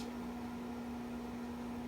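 A household microwave oven runs with a steady, even hum and a low airy whir that stays constant throughout, with no talking.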